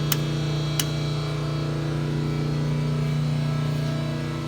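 A 200-ton four-post hydraulic press, wired for 460 volts, runs its motor in slow jog setup mode, giving a steady, loud, continuous hum with two brief clicks near the start and no talk.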